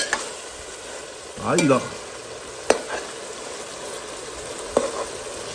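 Sausages and zambrovates frying in a pan, a steady close sizzle with a brief stir and a couple of sharp utensil taps, and a short spoken remark in between.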